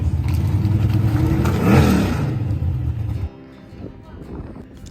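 A small-block V8 in an old Mustang revs loudly through side-dumping cone mufflers, a rough, throaty roar that swells and then cuts off abruptly, leaving quieter low rumbling and some background chatter.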